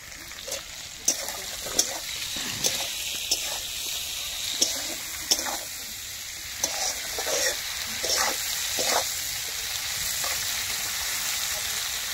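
Dried fish fries over a wood fire with a soft, moderately close sizzle, broken by sharp pops and knocks at irregular intervals.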